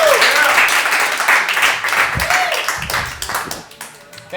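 A live comedy show audience applauds a comic in Portland, a loud spread of clapping that tapers off while voices and cheers mix in over it.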